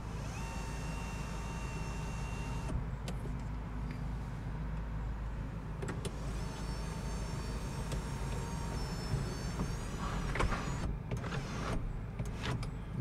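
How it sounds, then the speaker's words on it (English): Electric motor whirr of the large sunroof on a 2015 Volkswagen Golf GTI SE with Performance Package sliding open, a steady close hum inside the cabin with a few soft clunks and ticks along the way. "So you can open this up in this massive sunroof, and let's go ahead and open it up and see what it looks like."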